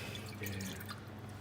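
Half a cup of water poured into a pan while making chicken katsudon, heard as a short, soft trickling and dripping of liquid close by for just over a second.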